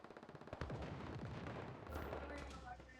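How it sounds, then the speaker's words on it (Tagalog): Gunfire in the online survival shooter Once Human: a rapid rattle of shots opens, then a dense, continuous roar of battle noise and booms, with a low rumble underneath. "Baril lang ng baril."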